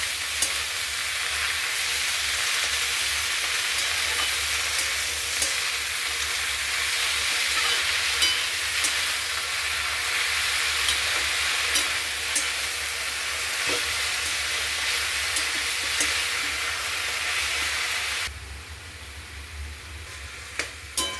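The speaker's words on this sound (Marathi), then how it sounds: "आता आपण याच्यामध्ये तांदूळाची भाजी घालून व्यवस्थित मिक्स करून घ्यायचं" Tandulja greens sizzling steadily in a hot pan with green chillies while being stirred, a loud, continuous frying hiss with occasional scrape and clink of the spoon, dropping quieter near the end, with no talk.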